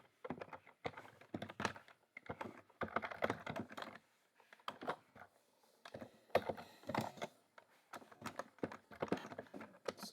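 Someone types code for a VPN tunneling lab on a computer keyboard, close and fairly quiet. The keystrokes come in clattering bursts separated by short pauses.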